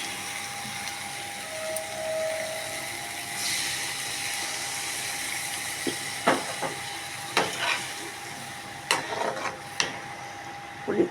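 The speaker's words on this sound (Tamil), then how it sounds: "இது இப்போ புளி தண்ணி ஊற்றணும்." Tamarind water hisses in a pan of frying prawn curry as it is stirred, making a steady close sizzle with scattered scraping clicks from the spoon.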